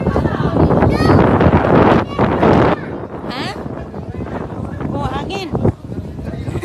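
Wind buffeting a microphone outdoors in a loud, gusty rumble that swells and drops, with people talking over it.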